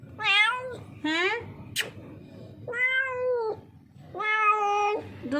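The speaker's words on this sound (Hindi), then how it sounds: "दोस्तों ये कहीं से आई है ये बिल्ली। पता नहीं किसकी बिल्ली है।" A hungry stray street cat meows close by, four drawn-out pleading cries with short gaps between them, and a soft background voice is heard as well.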